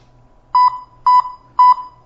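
A Lionel battery-powered toy train with no remote connected gives three short, evenly spaced electronic beeps over a faint low hum from the model.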